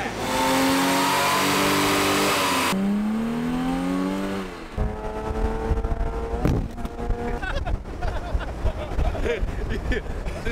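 A Jaguar E-Type engine with a throttle body is revved hard, its strong harmonic whine climbing and falling through several sharp sweeps before breaking into rougher, pulsing revs nearby.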